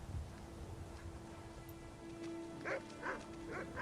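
A dog in a video game gives a few soft barks in the latter half, heard over steady game background ambience with a low hum; no one talks.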